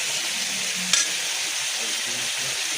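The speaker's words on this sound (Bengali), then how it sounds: "চিকেনটা দিয়ে একটু ভাজা হোক, একটু নেড়ে চেড়ে নেবো" Chicken pieces frying in a pan while being stirred, a continuous close sizzle with one sharp clatter of a utensil early on, no voices.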